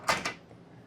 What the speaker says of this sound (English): Here's the bedroom door. Looks like a two-piece sliding door.